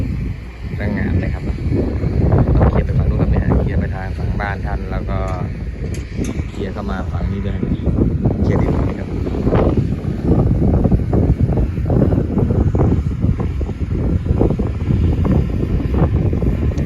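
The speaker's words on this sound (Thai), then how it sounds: "โอ้ลมแรงครับวันนี้" Strong wind buffets the microphone outdoors at a Khok Nong Na farm plot in Buriram, Thailand, a loud, continuous low roar under someone talking throughout.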